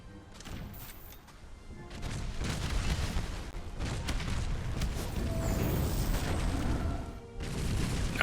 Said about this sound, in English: dwarf ships also possess cannons on every side of their ship